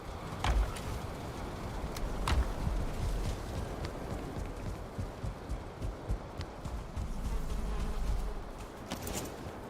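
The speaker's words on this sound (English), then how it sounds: "I thought I heard a mosquito." A mosquito whines in the Valheim video game, a faint, thin buzzing drone that drifts in and out under a soft rustling background, with occasional light taps, and no talk.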